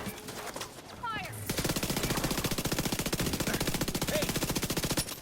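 Sustained automatic gunfire in the video game The Division 2, a fast, even burst of loud shots starting after a second of quieter game sound and continuing nearly to the end.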